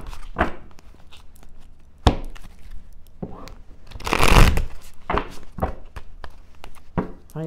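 Tarot cards being shuffled by hand in quick papery riffles and slaps, with a louder burst of shuffling midway and short pauses between bursts, close and alone.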